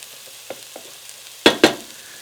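Mushrooms in a pot give a low simmering sizzle with light scrapes, then two loud sharp bursts of sizzling as they are pressed down against the pot's bottom, close and without talk.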